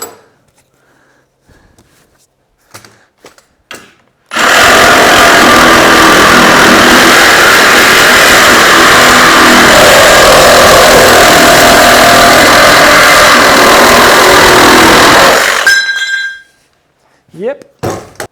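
A Milwaukee Sawzall fitted with a carbide-toothed AX blade saws through shallow unistrut, giving a loud, continuous metallic roar of about eleven seconds. Quieter handling clatter comes before and after the cut.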